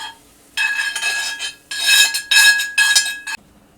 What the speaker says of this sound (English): Now the onions are tender, so I'm going to add those to my Dutch oven